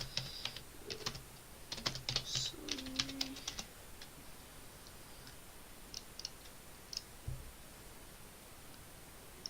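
Quick bursts of typing on a computer keyboard, clustered in the first few seconds and then scattered, close and fairly soft, with a brief bird-like chirp among the keystrokes and no talking.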